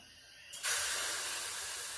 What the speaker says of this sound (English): It's sizzling, it's bubbling.